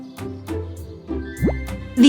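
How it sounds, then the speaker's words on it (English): Soapy water bubbles and plops as air is blown through a straw, with a few short gurgling bursts between pauses and a voice speaking over them. "The owl is blowing bubbles."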